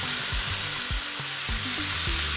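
Chicken pieces fry at high heat in olive oil for Mexican fajitas, giving a steady, loud sizzle with low musical tones beneath, alone without any voices.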